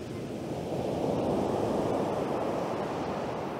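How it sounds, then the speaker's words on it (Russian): Sea waves breaking on the beach at Bečići, Montenegro, in November: a continuous, loud broadband wash of surf swelling and holding steady, with some wind buffeting and no talk. "Этот волшебный морской звук волн."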